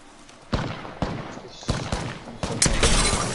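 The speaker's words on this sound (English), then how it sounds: "Shots from afar." Distant gunfire in a PS4 shooter game, a string of separate sharp bangs spaced about half a second apart, fairly loud with a rumbling tail.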